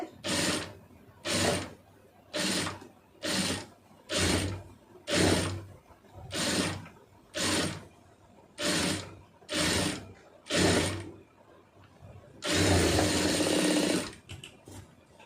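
A sewing machine runs in about a dozen short, evenly spaced bursts while stitching a puff sleeve, each a quick mechanical whirring run with brief pauses between, ending in one longer, louder burst.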